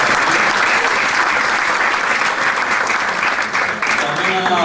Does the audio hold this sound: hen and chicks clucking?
no